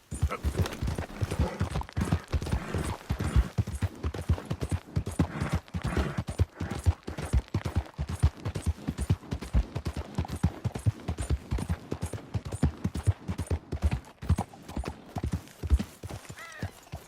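Horse hooves in Red Dead Redemption 2, clip-clopping in a steady, rapid rhythm at close range throughout, with an occasional whinny mixed in.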